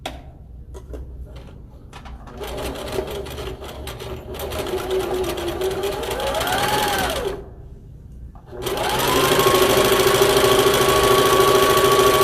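A sewing machine stitches down the sides of a homemade lunch bag in long, loud, continuous runs with a brief pause in between, its motor humming steadily up close.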